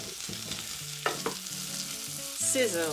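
Chopped vegetables sizzle and crackle steadily in olive oil in a hot frying pan while a utensil stirs and taps against it a couple of times.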